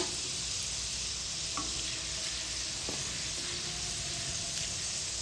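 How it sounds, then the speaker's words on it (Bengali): Lentils deep-frying in hot oil for homemade chanachur, a steady dense sizzle and hiss that continues without break, close up, with a few faint clinks and no voices. "আর একটু লাল লাল করে ভেজে নেব ডালগুলোকে"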